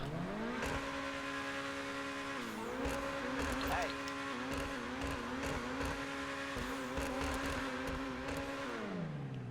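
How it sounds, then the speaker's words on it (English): Grotti Furia sports car engine in GTA Online revving hard several times, a loud sustained roar rising and falling in pitch with brief tire squeal and skid noise, close and continuous. "let's go ahead and give it some gas and rev it up"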